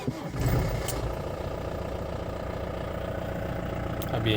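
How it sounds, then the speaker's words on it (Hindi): A 2011 Mahindra Bolero SLX with its 2.5-litre turbo diesel idles steadily and noisily, a dense low clatter running unbroken close by, heard from inside the vehicle with no talk over it. "अभी इंजन स्टार्ट है, आप लोगों को सुना ही आ रहा होगा कि अंदर कितने साउंड आ रही है इंजन की।"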